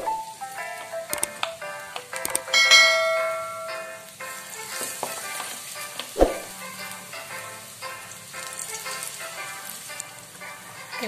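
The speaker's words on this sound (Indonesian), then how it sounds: "Setelah panas, kita goreng tempe yang tadi ya." Tempeh fries in hot cooking oil with a steady crackling sizzle and scattered sharp pops, close and fairly loud, lasting throughout with no talk over it.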